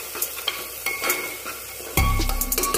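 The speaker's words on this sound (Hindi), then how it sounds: "अब इन सब मसालों को चला देंगे एक बार के लिए" Red chili, turmeric and coriander powder being stirred into hot oil in a pan, with a steady sizzle and scraping stirs, turning louder and more intense near the end as the spices hit the heat.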